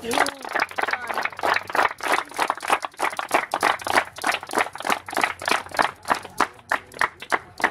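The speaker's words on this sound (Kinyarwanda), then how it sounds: "aya mashyi mwikomeye" A crowd at a group gathering claps together in a loud, quick, fairly regular rhythm, the clapping close and continuous with some voices mixed in.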